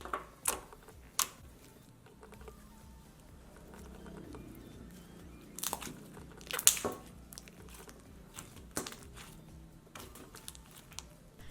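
Crunchy cereal-milk slime topped with big rainbow foam beads being squished and pressed by hand, giving soft squelches and scattered sharp crackly pops and crunches at uneven intervals, close and quiet.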